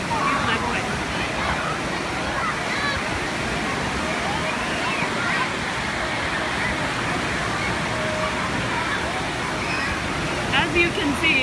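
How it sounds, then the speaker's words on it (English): Artificial waves churn in the Big Kahuna wave pool at Kentucky Kingdom, a steady loud wash of rushing, sloshing water filling the whole stretch, with a crowd's babble mixed underneath. "This is the big kahuna waves that are going on right now."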